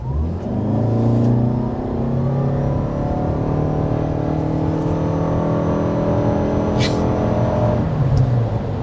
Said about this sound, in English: Let's get an acceleration from a stop.